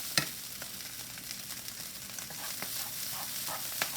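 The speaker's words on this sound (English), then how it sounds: "And I'm just going to stir the meat a little bit more." Meat cooking in a pan with corn and red onion hisses softly as it is stirred, with a few sharp scrapes and clicks of the utensil over a constant low frying noise, and nobody speaks.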